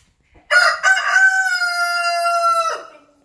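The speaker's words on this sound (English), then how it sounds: "There's the rooster." A rooster crows once, loud and close, a long harmonic call at a chicken coop with no talk over it.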